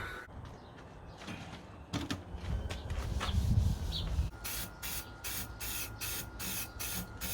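Spray paint goes onto a log burner made from an old propane tank, painting it black. Handling clunks and creaks come first, then a run of short, evenly spaced aerosol hiss bursts up close.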